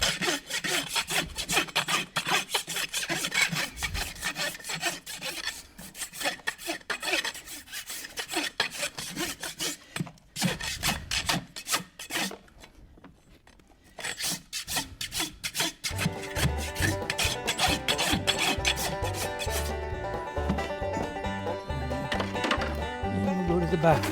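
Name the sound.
clinching rasp smoothing horseshoe nails on hoof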